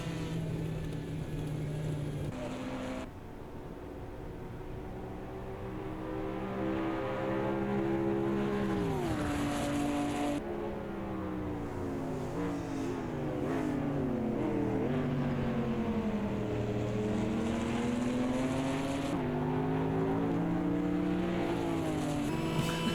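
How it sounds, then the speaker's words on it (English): Racing car engines in the sim racing game Automobilista 2 at Road America roar and rev continuously, pitch rising and falling through gear changes, with abrupt dropouts where the engine sound glitches and cuts off briefly. "The sound just keeps cutting out on this car, man."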